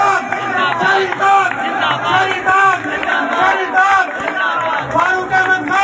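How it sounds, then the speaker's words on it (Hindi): A large crowd at a political rally chants slogans in unison, with dense cheering voices and clapping filling the whole stretch at a steady, loud level. "शहीद तालियों के साथ नारा लगाए"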